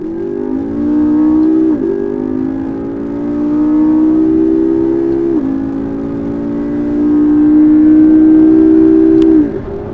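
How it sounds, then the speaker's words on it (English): McLaren MP4-12C supercar engine pulling hard through the gears, a loud rising whine broken by brief dips at each shift, with three climbing runs and no voices. "So here we go, the McLaren"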